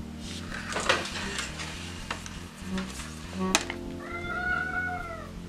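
A cat meows in a drawn-out, wavering call near the end, after a stretch of quiet clinking and handling noises from paper crafting of a scrapbook mini album.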